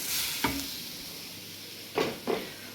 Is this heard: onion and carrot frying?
yes